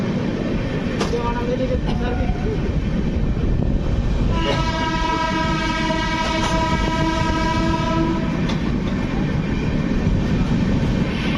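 A goods train rolls past at Ongole station with a heavy continuous rumble and clatter, its horn sounding in long, loud tones partway through.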